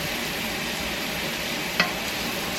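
Cabbage being stirred in butter in a pan, a steady close sizzle with a soft scraping texture and one brief clink of the utensil against the pan.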